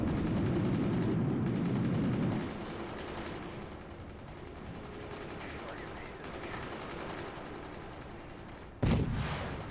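Cannon and howitzer shells fire in the Forts artillery game with a heavy low rumble that fades, leaving scattered distant impacts and a sharp blast near the end, under quiet game ambience.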